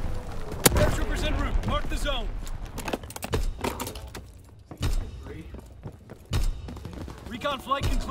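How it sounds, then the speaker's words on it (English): Strafing fire from an aircraft in Call of Duty WW2 hits in several loud, sharp bursts between quieter gaps, while voices talk throughout. "Strafing run inbound."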